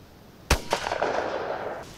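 An MP-155 shotgun fires a 32-gram felt-wad shell outdoors with a choke fitted: one loud sharp blast followed by a rolling echo that fades over about a second and a half.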